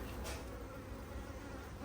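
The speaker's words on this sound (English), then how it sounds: "Ooh, the bees just fell off." Honeybees buzzing steadily around an open hive frame covered in comb, a dense continuous hum close by with no voices.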